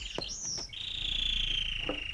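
Small birds chirp and whistle nearby, a bright sustained trill following a few quick tweets, with no voices.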